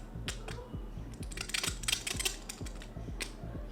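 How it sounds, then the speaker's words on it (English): Something scraping across the Poco X6 Pro's camera lenses during a durability test, giving a rapid run of dry clicking, ticking scratches close up and fairly quiet, with no talking. "That is a weird kind of noise we have heard before while scratching all 4 lenses."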